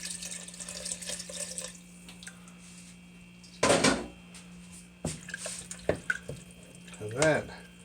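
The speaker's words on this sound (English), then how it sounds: "I'm gonna put about a cup and a half of water" Water pours in short bursts into a pot of okra and tomatoes, splashing briefly several times over steady kitchen hum, with a person talking nearby.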